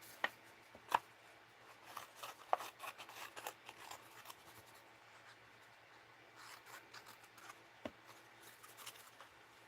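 Scissors cut paper pieces for mixed-media necklaces: soft, scattered snips and rustles, quiet and close, with no talking.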